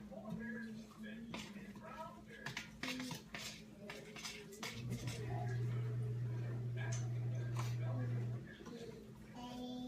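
A thick Mississippi mud mixture is stirred in a pot, giving scraping clinks and knocks of a utensil against the metal, with a steady hum in the background and people talking quietly over it.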